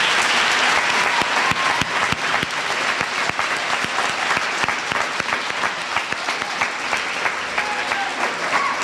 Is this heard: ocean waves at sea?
no